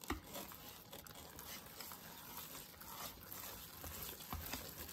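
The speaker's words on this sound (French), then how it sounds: "Nous allons donc mélanger tout ça." Banana batter mixed with water being stirred in a bowl, a soft continuous wet scraping and patter with irregular taps of the utensil against the bowl, close and fairly quiet.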